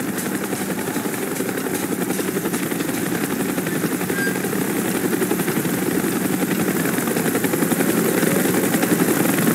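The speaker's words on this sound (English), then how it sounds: "Chopper's inbound. Move it." Helicopter from the Call of Duty Black Ops game flying in, a steady loud rotor thump and turbine roar that holds throughout and swells slightly toward the end, with no talk.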